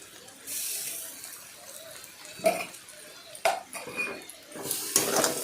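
Boiled vegetable chow mein stirred in a pan, with scattered metallic scrapes and clinks of a utensil against the pan between quieter stretches.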